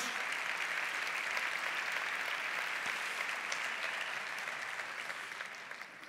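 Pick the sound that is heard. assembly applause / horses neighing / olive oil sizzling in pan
assembly applause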